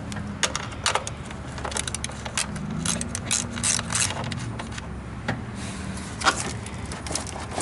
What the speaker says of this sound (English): Take a 10mm and remove this nut.